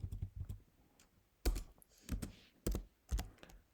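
Keystrokes on a computer keyboard while Swift code is written, a few light taps followed by several heavy, separate clacks spaced about half a second apart, close and fairly quiet, no talking.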